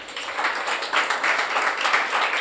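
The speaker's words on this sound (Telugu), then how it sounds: "చప్పట్లు కొట్టాలి." Audience applause from a church congregation during a sermon, a steady wash of many hands clapping together at moderate volume with no voices over it.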